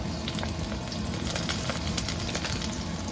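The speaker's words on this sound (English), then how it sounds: "We'll let this sizzle for probably just 10 to 15 seconds until fragrant and a bit of browning occurs." Minced garlic, store-bought and pre-minced, fries in a hot pan for a keto cauliflower egg fried rice. It gives a steady, close crackling sizzle that holds level for the whole stretch, with no voices over it.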